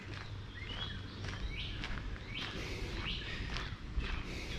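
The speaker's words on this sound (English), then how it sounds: "the sounds of the birds" Birds chirp and call in short bursts over a steady low outdoor rumble, with a few clear tweets standing out at moderate distance during a springtime walk.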